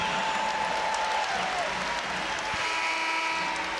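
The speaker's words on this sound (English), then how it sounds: "This crowd all cheers for Maddie Cox as she exits the floor." A women's college basketball crowd at an NC State home game, hosting Georgia Tech, cheers and applauds steadily as a player leaves the floor, a dense, loud wash of arena noise throughout.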